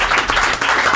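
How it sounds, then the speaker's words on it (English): A live audience at a comedy roast battle bursts into applause, brief dense clapping from a crowd, loud and close. "give him a round of applause"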